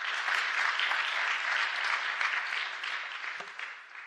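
A conference audience at ICN25 gives a short, warm round of applause, dense even clapping that tapers off toward the end.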